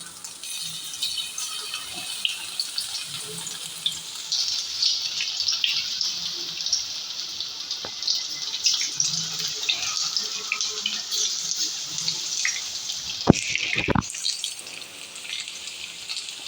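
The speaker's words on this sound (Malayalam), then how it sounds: "നല്ല ചൂടുള്ള എണ്ണയിൽ തന്നെ ഇട്ട് കൊടുക്കാം" Appam pieces dropped one by one into very hot oil in a pan, giving a continuous loud hissing sizzle close by with faint crackles, lasting throughout with no talk.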